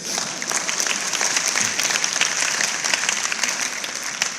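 An audience at a church-style talk applauds steadily, a dense wash of clapping from many hands that holds level throughout without voices.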